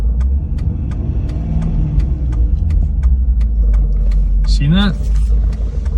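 A Lexus SC with a laggy, underpowered throttle response idles in neutral at a stoplight with the accelerator floored, giving a steady close engine drone and faint regular ticking. Someone speaks briefly near the end.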